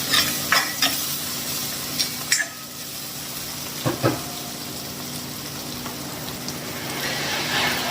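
Green chillies and onion frying in a pan while being stirred, a steady close sizzle broken by several sharp scrapes and clinks of a utensil against the pan.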